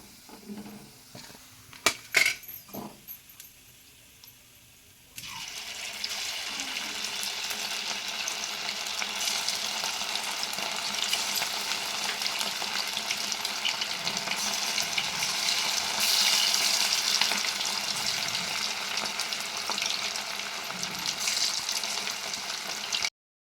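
Chicken pieces frying in hot oil, a steady loud sizzle and crackle after a few faint clinks and knocks at the start, with the sizzle swelling and holding steady throughout.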